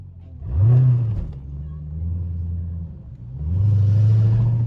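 A loud Dodge Hellcat with extra mufflers drives nearby, its deep engine rumbling and rising in two revving surges under a steady low drone.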